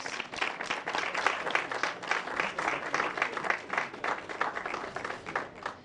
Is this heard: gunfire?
no